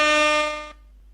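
A loud, brassy air horn blast sounds alone, holding for under a second before cutting off abruptly.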